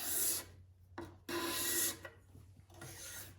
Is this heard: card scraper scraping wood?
yes